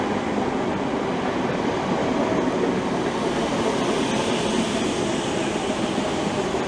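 A train passes through Romford station on the Great Eastern Main Line, a steady, loud rumble of wheels and carriages that holds up close for the whole stretch with no voices.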